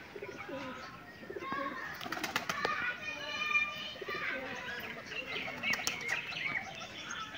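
Pigeons burst out of an opened loft with a flurry of flapping wings and soft cooing, busy bird sounds rising and falling at close range, with faint human voices in the background.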